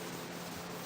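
Scuffing the surface of an AMD 2-inch cowl hood for a 1987 C30 before paint, a faint, steady abrasive rubbing sound, brief and close with no talk.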